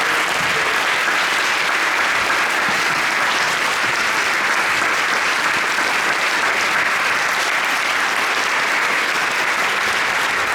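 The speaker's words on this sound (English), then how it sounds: "let's give them another round of applause" Sustained, loud applause from an audience filling a church at a young musicians' competition, steady and dense for the full stretch with no voices over it.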